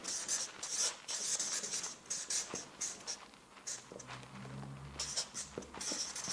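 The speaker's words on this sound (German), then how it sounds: "wir schreiben jetzt hier auch gleich mal hier rein" Handwriting a single word, likely marker or pen on a board, with scratchy strokes in short bursts against a room background, some low hum partway through.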